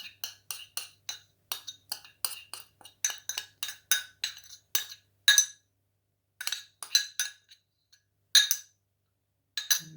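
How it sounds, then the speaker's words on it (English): Sauce stirred into sesame meatballs in a bowl, a utensil clinking against the dish in quick regular taps that slow into scattered knocks, close and fairly clear with no talking. "Just stir in the sauce."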